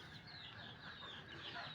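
Free-range desi chickens cluck softly outdoors in the open, a faint, continuous murmur of several birds with airy background noise and no clear speech.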